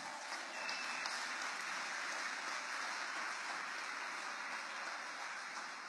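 Steady, dense applause from a church congregation holds at an even level for about six seconds, a continuous wash of clapping with no speech heard over it.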